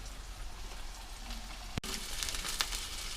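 Steaks fry in a pan with a steady, close sizzle and crackle, briefly interrupted by a sharp click partway through.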